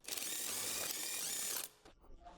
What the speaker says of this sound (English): Use the 22mm socket with the electric impact wrench to remove the lug nuts.